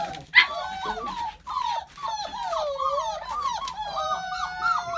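Deerhound lurcher puppies nearly six weeks old whimper and yip almost continuously, high wavering cries overlapping one another at close range, with a brief sharper yelp near the start.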